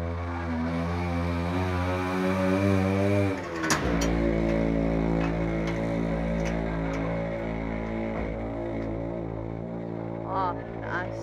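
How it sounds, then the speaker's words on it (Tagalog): A noisy motorized tricycle rumbles close by at a residential gate, its loud droning engine steady and sustained. The pitch shifts as it passes, and faint voices sit underneath. "Maingay ang tricycle."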